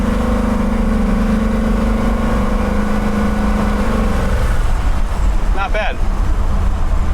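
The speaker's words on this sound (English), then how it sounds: "You can hear the intake open up. I'm just doing partial throttle." A 1960 Pontiac Laurentian engine under partial-throttle acceleration, a steady droning intake and engine hum with road noise inside the cabin, fading in pitch midway, with someone speaking briefly over it.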